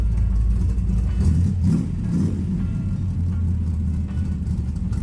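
A deep, steady engine rumble from a 1930 Nash 400 Series street rod idling close by, with a slight swell in revs partway through.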